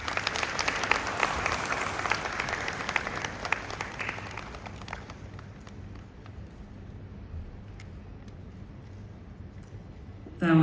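Applause from a conference audience at an African Union anti-corruption gathering, a broad crowd clapping that gradually fades and thins to scattered claps, with a sudden loud burst at the very end.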